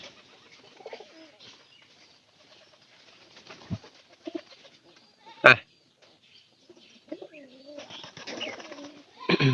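Pet pigeons feeding, soft cooing and rustling wing flutters close by with scattered pecking clicks and a sharp knock, under quiet talk.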